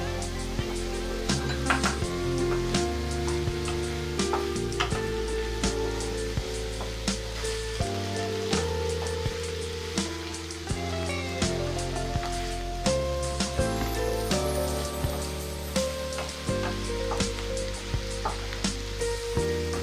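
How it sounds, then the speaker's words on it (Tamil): Tomatoes are sautéed with onions in a pan as a base for a country chicken curry, crackling and sizzling steadily for about twenty seconds with occasional stirring clatter and some background tones. "இப்போ தக்காளியை இதில் சேர்த்து வதக்கிக்கலாம்."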